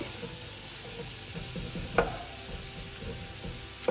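Butter and flour roux cooking in a pan for a BBQ chicken pasta bake, a low steady sizzle and bubbling with occasional soft stirring scrapes, close and quiet with no talk.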